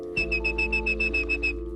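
A steady whistled tone repeats in about ten short pulses of even rhythm, clear and close over a low background hum, used as a command tone for a telephone system; no talking.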